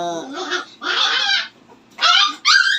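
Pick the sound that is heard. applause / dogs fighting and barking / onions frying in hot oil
dogs fighting and barking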